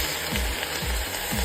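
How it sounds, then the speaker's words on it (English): Steady sizzling from a hot pan as stock is added for braised venison shanks fills the clip, with soft rhythmic thumps of stirring or scraping underneath. "Listen to the sizzle."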